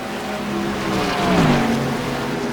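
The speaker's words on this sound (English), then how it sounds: "the pace car coming out of turn 4 right now" A stock-car pace car in a racing video game runs through turn 4 of an oval, its engine a steady loud drone that swells slightly and shifts pitch mid-pass, with no voices over it.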